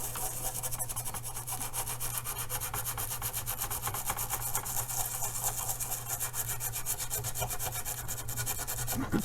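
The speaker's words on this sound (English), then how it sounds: "Be quite vigorous with this scrubbing." A toothbrush scrubs old crusty flux off an Amiga A500 circuit board in steady, vigorous rapid strokes, close and continuous with no talking.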